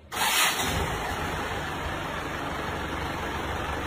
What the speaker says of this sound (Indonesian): Ayo starter.